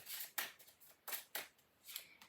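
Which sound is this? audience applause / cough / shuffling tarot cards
shuffling tarot cards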